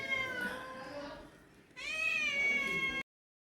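A pet cat meows twice at home, each call long and drawn out, close and clear with a short pause between them.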